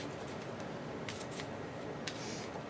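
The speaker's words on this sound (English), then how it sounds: "So another little shuffle." Playing cards for the Arkham Horror card game riffle in a few brief soft bursts against a steady background hiss.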